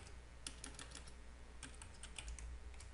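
Code is typed on a computer keyboard in quick, irregular bursts of soft key clicks, faint and close, over a low steady hum with no speech.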